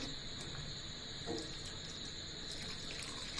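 Water pours steadily into a pot of rajma, a soft continuous splashing that stays even throughout, with no voices.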